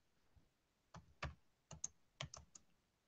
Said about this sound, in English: I think I hear people typing away